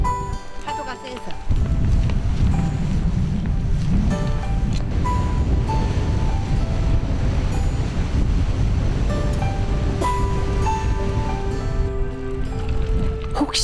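Strong waves and gusty wind batter an island after a typhoon, a steady loud roar of surf and wind noise on the microphone, close and continuous throughout.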